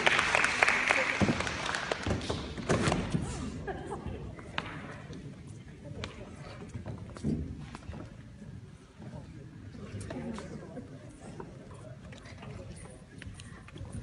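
An audience at a Sufi night during a Punjabi film festival claps in a loud burst at the start, then the applause fades into softer scattered clapping.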